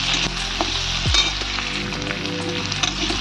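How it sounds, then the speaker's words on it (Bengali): Sliced onions and potatoes fry together in a pan with a steady, close sizzle, broken by a few soft stirring knocks; no one talks. "আর এই আলুর মধ্যে এই পেঁয়াজগুলো দিয়ে দেবো, আলুর সঙ্গে হালকা করে ভেজে নেওয়ার জন্য।"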